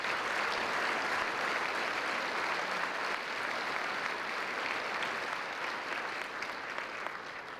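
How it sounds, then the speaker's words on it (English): A banquet audience at a Peoria dinner gives a warm, sustained round of applause, the broad wash of many hands clapping steadily for several seconds, easing only slightly toward the end. "And I think John and Jerry deserve your thanks and a warm round of applause."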